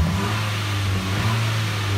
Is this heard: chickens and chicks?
no